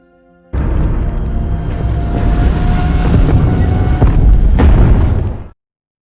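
A loud, sustained explosive roar of a tower blowing up in the film Ad Astra erupts suddenly, rumbling heavily for several seconds with crackling debris before cutting off abruptly.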